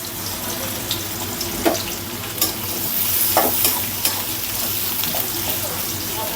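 Garlic and onion going into hot oil in a pan, a continuous close sizzle with scraping stirs and occasional clinks, a faint voice in the background.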